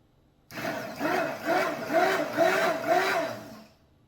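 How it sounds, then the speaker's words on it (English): A blender mixes homemade body butter in about five quick, evenly spaced bursts of motor whir, each rising and falling in a steady rhythm, close by with no talking. "I'm going to put my blender back in and give it, she says, 4 to 5 quick bursts"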